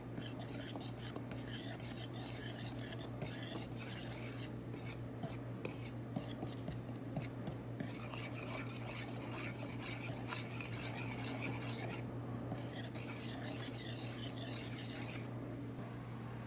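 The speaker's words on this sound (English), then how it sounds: "Now I need a teaspoon of baking soda and a teaspoon of salt. And whisk it all together." Flour, baking soda and salt whisked together in a bowl, a soft, steady scraping and rustling of the whisk repeating quickly and continuously, close and quiet, with no talking and a low hum in the background.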